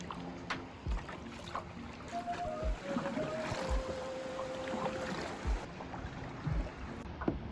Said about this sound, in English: Going kayaking!